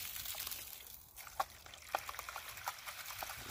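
Hose water rinsing gold paydirt in a pan: a soft, steady wash of trickling, swirling water with a few faint splashes and clinks, close and quiet.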